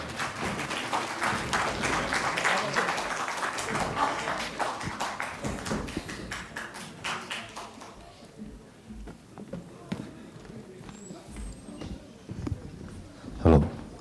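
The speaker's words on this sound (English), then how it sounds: "Please give a big round of applause." An audience at an anniversary celebration applauds young performers of the Tashi Shopa dance, with rapid clapping that is strongest early and thins away, followed by scattered taps and a brief thump near the end, with some voices present.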